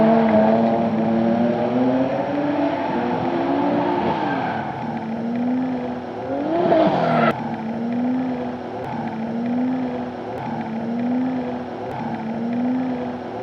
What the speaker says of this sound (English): I'll even show some of the drifting with loud cars that I use with the onboard mic